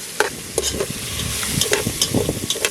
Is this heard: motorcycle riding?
no